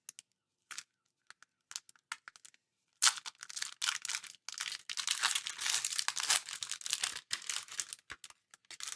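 A Lorcana trading card booster pack torn open: a few soft isolated crinkles, then a burst of dense foil ripping and crackling that continues in quick, close, quiet bursts.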